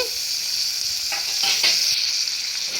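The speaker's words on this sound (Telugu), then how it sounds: "వేసిన తర్వాత కలబెట్టాలండి బాగా సిమ్లో పెట్టేసి కలబెట్టాలా" Carrots and green peas sizzle steadily in hot oil in a pan while being stirred for a vegetable biryani, with scraping stirs breaking through the continuous close frying hiss.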